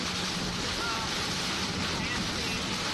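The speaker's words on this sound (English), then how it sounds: "It's definitely windy." Strong wind roars steadily around a car driving into a severe storm with high winds and possible hail, a dense, unbroken rush of noise buffeting the vehicle.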